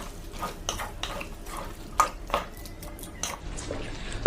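Olive and garlic pickle being stirred with jaggery and salt in a pan over low heat, giving soft irregular scraping and squishing strokes with a few sharper clinks of the utensil against the pan, close up and with no talk.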